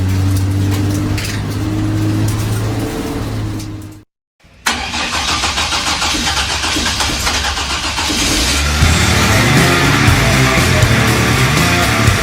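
An unusual car's engine runs loud and steady, breaking off briefly into near silence before surging back even louder, with a heavier low rumble building toward the end as it revs.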